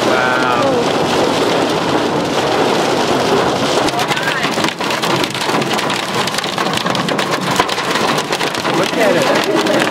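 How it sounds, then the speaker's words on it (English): Hail pounds a car pulled off to the side of a freeway in a severe storm, a dense, loud, continuous roar of drumming impacts with faint voices underneath. "also caught in a hailstorm"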